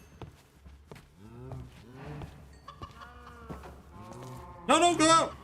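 Cattle moo repeatedly in a medieval Minecraft-style survival game, with harmonic lowing calls across the clip and a louder, closer moo near the end over a faint low background hum.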